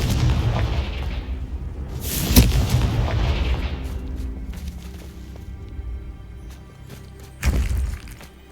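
In Hogwarts Legacy, the Confringo fire spell goes off with a loud boom near the start, and a second sharp blast follows near the end over a rumbling game soundscape.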